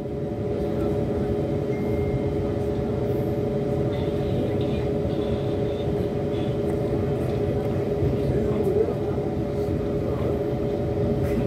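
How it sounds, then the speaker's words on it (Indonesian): The Brawijaya train from Gambir to Malang passes in the opposite direction, heard from aboard another train: a loud, steady rolling rumble with rail noise that holds unbroken for the whole stretch. "saya melihat ada kereta dari arah berlawanan nih. Kalau dilihat rangkaiannya, ini sepertinya kereta api Brawijaya dari Gambir tujuan akhir Malang."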